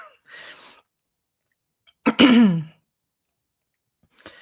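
One person clears the throat and coughs close up in a quiet room: a brief rasp, a pause, then a louder voiced cough, with a faint start of another sound at the end.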